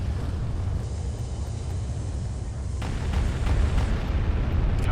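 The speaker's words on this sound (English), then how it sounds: "Bombardment incoming." Artillery bombardment in the strategy game Star Wars Republic at War; a rumbling barrage of low booms and bursts rolls continuously and grows heavier midway through.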